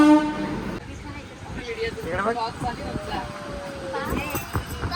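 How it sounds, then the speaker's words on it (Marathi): A train pulls away from Kolhapur with horn toots sounding over the rolling rumble, while people chatter nearby throughout. "चला आमची ट्रेन सुटली आता"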